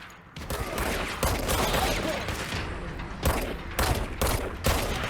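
Gunfire in the action game Control: several sharp, loud shots and bursts crack out across the clip over a steady bed of game noise, with no talking.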